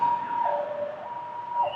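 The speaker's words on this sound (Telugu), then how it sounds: "అంబులెన్స్లు బాగా తిరుగుతున్నాయి ఈ మధ్య" A wailing siren rises and falls for a moment, fairly loud and close, like an ambulance going by.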